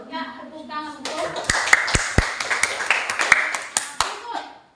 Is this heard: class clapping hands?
yes